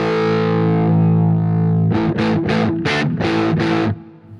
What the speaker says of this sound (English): This one's called the Dirty Hippie, and it's another germanium one, but it's a different voicing.